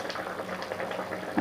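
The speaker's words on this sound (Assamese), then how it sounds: "আঞ্জাখন কিমান ধুনীয়াকৈ উতলি আহিছে" A curry of potato, kohlrabi and rohu fish bubbles as it boils, a brief, quiet stretch of soft, continuous burbling ending in a slightly louder pop.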